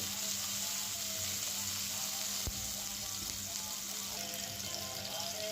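Tomatoes fry in oil with dried chili and panch phoron, giving a steady, dense sizzle that holds at an even level throughout, with one faint clink partway through. No one talks.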